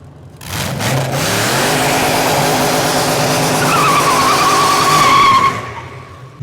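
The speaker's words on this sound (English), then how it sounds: "Warming up my tyres, my mud tyres, completely inappropriate for this kind of racing." A V8-swapped Nissan Silvia on mud tyres spins its wheels to warm them before a race, engine roaring at high revs with a sustained tyre squeal rising near the end before dropping away.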